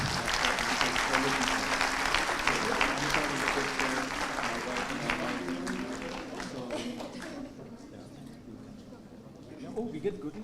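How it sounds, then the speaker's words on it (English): An audience at a conference applauds, steady, dense clapping holding strong for about six seconds with voices underneath, then tapering away before a speaker's voice returns. "Can we have a round of applause again, please?"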